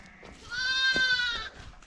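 A lamb bleats once in a drawn-out, wavering cry, close and clear over a quiet outdoor background on a farm, with no talk during the call.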